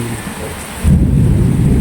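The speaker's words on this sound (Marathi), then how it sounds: "चोवीसला मुसळधार पाऊस पुण्यामध्ये पडत आहे" Heavy downpour in Chikhli, Pune: a loud, close hiss of rain on the road, joined partway through by a deep rolling rumble of thunder.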